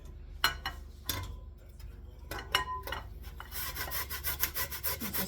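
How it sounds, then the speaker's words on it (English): Carrot grated on a small grater in a kitchen: uneven scraping and rasping strokes, sparse at first, then a faster, denser run of rubbing at close range. "Grate up the carrot."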